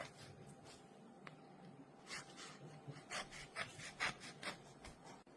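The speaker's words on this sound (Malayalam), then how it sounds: "ഇനി ഇതുപോലെ ചുറ്റിലും വരച്ചിലിടും, അതായത് വരഞ്ഞു വെക്കും." Knife scoring around the thick peel of a pomelo: faint, close scraping and rubbing strokes in short irregular bursts that grow a little busier toward the end.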